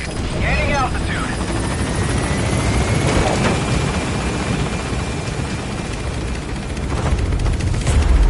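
A helicopter in Metal Gear Solid V lifts off and climbs out of a combat zone, its steady rotor roar loud and continuous throughout, with game radio voices talking over it.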